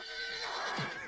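A horse neighs in the Animal Revolt Battle Simulator video game, one loud whinny rising and falling near the end of a short burst amid busy battle noise.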